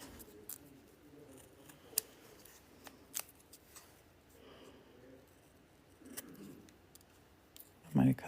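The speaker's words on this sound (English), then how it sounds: "I have little scissors that work really, really well for this." Small scissors cut a paper envelope for a Christmas craft, giving quiet, scattered snips and paper rustles up close, with a soft voice talking at times.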